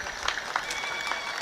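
Audience clapping at a university graduation ceremony, a steady wash of many hands applauding with a few sharper claps poking through and some crowd murmur underneath.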